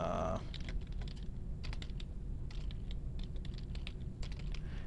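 Keys clattering in quick bursts on a computer keyboard, close and fairly soft, with short pauses between runs of typing.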